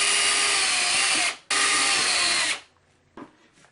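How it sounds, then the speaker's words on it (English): A power drill with a 3/32 inch bit whines at high speed in two bursts drilling pilot holes in a keyboard case, pausing briefly between them, then winds down with a faint clink afterward. "using a 3/32 inch bit, I'm going to drill pilot holes"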